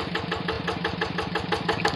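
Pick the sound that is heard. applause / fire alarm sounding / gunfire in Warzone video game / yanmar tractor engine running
yanmar tractor engine running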